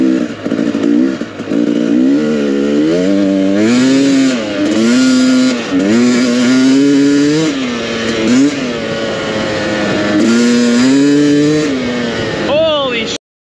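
Motorcycle engine roaring close up on a ride, revving in repeated rising surges as it accelerates through the gears, loud and sustained, with wind buffeting.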